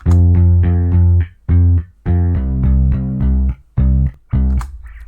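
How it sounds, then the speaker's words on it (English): A deep synth bass guitar tone plays a short bass line of separate notes in a steady rhythm, loud and close with brief gaps between phrases. "put them into some bass guitar presets that sound like"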